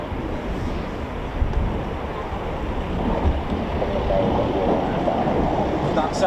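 A low, continuous roar from a Eurofighter Typhoon FGR4 jet taxiing at RAF Coningsby, heard from a distance and steady, with wind rumble mixed in.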